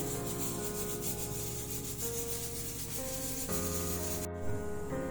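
Chicken momo filling with soy sauce is mixed by hand in a bowl, giving a continuous, close rubbing and squishing sound with faint background hum and no talking.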